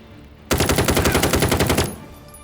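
In the video game Jagged Alliance 3, a machine gun fires one sustained burst of about twenty rapid, evenly spaced shots, loud and close, then stops sharply.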